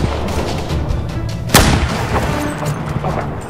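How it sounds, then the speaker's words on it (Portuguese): Gunfire in a video game sounds as booming shots over a loud, rumbling game soundtrack, with one sharp, louder blast standing out midway. "Estou atirando."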